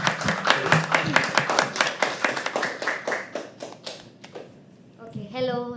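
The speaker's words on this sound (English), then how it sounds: "Keep clapping till she comes stage." An open mic audience at a live poetry event claps together in a brisk, rhythmic burst that thins out and fades by the end, followed by a voice speaking over the room.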